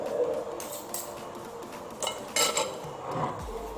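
Spoon and fork clinking against a bowl of bakso beranak while eating, a few light scattered metallic taps and scrapes, close but quiet, with no talking.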